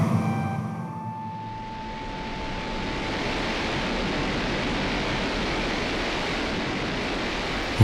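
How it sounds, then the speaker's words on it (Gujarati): A sudden strong gust at dawn on Girnar mountain rises into a steady, loud rushing roar of wind that holds evenly to the end, with no voices. "ત્યાં અચાનક પૂર જોશમાં પવન ફૂંકાયો."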